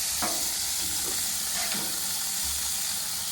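Burgers fry in a pan with a steady soft sizzle and hiss, while a few faint scrapes and clicks come through on top.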